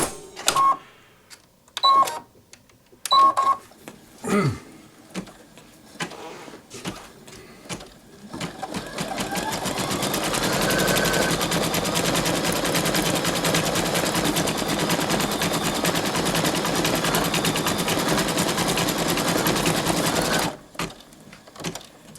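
Brother Innov-is 2800D sewing machine stitching an embroidery design: a few short start-up bursts and clicks, then a long steady fast rattling run of stitches at close range that stops abruptly near the end.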